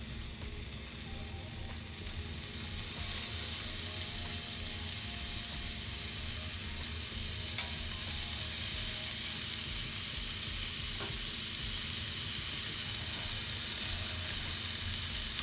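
Indian seekh kebabs sizzle on a hot indoor grill, a loud, steady, close hiss and crackle that holds unbroken the whole time with no talk.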